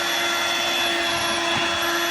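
A Hoover Dirt Devil Vibe 3-in-1 corded stick vacuum cleaner runs with a steady, loud motor whine and airflow roar, continuous throughout with a brief low thump near the middle.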